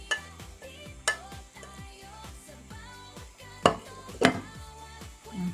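Tomato and parsley stirred into a pasta sauce in a pan while it sizzles softly, with repeated scraping strokes and a few sharp clinks of utensil against metal.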